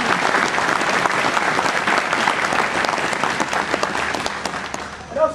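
A crowd claps steadily at an Air Force graduation ceremony, a dense, sustained round of applause that carries on for several seconds and thins slightly at the end.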